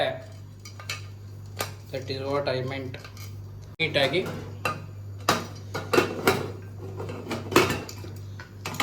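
A pressure cooker lid is shut while making veg biryani, with sharp metallic clanks and clicks of pot and lid scattered through the clip under a person talking.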